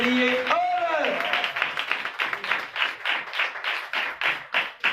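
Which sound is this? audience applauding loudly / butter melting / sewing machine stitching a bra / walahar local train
audience applauding loudly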